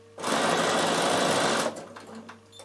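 A Bernina 7 series sewing machine fitted with a punchwork kit needle-punches fabric in one loud, rapid, even burst of about a second and a half, then stops, leaving a few soft clicks.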